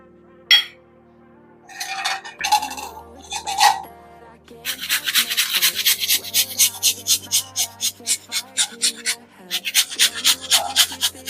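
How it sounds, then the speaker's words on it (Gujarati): Pumpkin being grated by hand for spiced pumpkin puri: a run of rapid, rhythmic rasping strokes, close and fairly loud, preceded by a few scattered clinks and scrapes. "જો આપણે પમ્પકિન છીણી લીધું છે"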